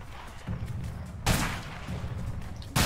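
Enemy gunfire in the jungle in A Way Out: sharp, close shots crack out over a rumbling game background, one loud blast in the middle and another at the end.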